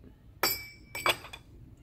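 A glass laboratory filter funnel is handled, giving a few sharp, ringing clinks: one bright tap, then a quick cluster of two or three more, close and alone.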